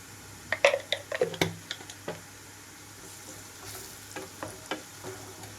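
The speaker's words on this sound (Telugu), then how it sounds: "అల్లం వెల్లుల్లి కూడా వేగిపోయింది అనుకున్న తర్వాత" Ginger garlic paste fries in a pan for a Telugu gongura prawn curry, giving soft sizzling with clustered stirring clicks and scrapes early on that thin to sparse crackles, close and fairly quiet with no talking.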